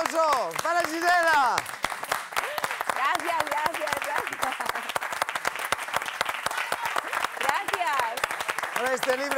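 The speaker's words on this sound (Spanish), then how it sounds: "¡Fuerte aplauso para Gisela!" A studio audience applauds Gisela on a TV talk show, dense sustained clapping throughout, loud and close, with a host's voice speaking over it at the start and end.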